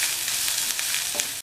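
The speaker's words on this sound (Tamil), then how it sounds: "இதை நல்லா வதக்கி விட்டுக்கலாம் எண்ணெயிலேயே" Steady crackling sizzle of spices frying in hot oil for kollu (horse gram) rasam, broadband and continuous, with faint stirring scrapes near the end.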